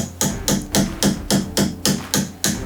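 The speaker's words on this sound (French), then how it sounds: "je vais me servir d'un support et tapoter légèrement sur le clou" A hammer lightly taps a nail through the metal parts of a folding knife set on a support, about nine even, sharp metallic taps in a steady rhythm, close and clear with no talking.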